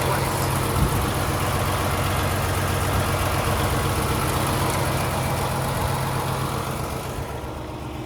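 A 2017 Kenworth T680 truck with a 500 hp Paccar MX engine idles with a steady, even diesel rumble and fairly loud, unbroken vibration that eases slightly at the end.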